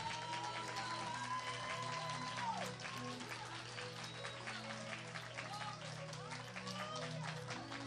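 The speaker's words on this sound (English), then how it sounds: "while you're clapping your hands, can we clap our hands for Jesus?" Clapping from a congregation at a prophetic summit church service, a busy rattle of hands under sustained voices and musical tones, with excited vocal sounds rising over the crowd throughout.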